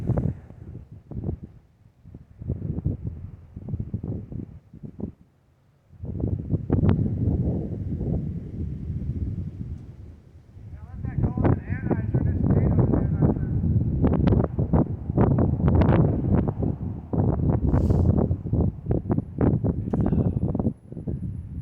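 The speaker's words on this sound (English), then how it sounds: "it is cold and windy" Strong, cold gusts on an outdoor disc golf course buffet the microphone in loud, rumbling bursts, dropping briefly then returning in long continuous blasts.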